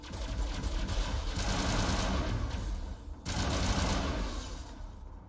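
Assault rifle gunfire in the video game Mass Effect, dense sustained automatic bursts that fill the clip loudly with a brief break midway, no talk over it.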